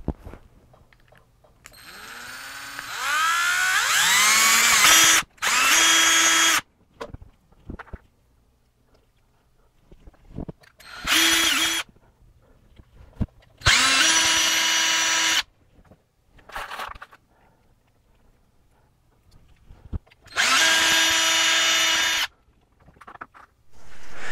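Power drill driving fillister screws, the pole pieces, into a handmade humbucker pickup for a six-string multi-scale guitar: several loud whirring bursts of a few seconds each, rising in pitch, separated by quiet pauses.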